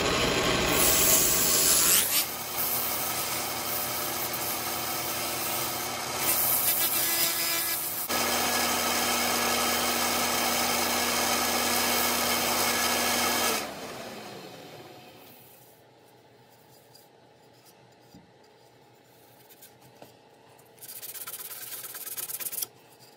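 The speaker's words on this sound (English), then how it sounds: "Give this a quick sand, and we'll give her a quick polish" A walnut bowl being sanded on a spinning lathe, a steady loud whirring rub that holds for about fourteen seconds, then drops to quieter motor hum and brief scraping as the sanding stops, without talking.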